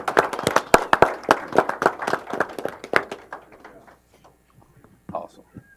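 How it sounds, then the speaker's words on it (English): Applause at a county board of supervisors meeting: a modest crowd claps in a close, sharp, uneven patter that thins out and fades after a few seconds, followed by a brief murmur. "Let's give them all a good round of applause."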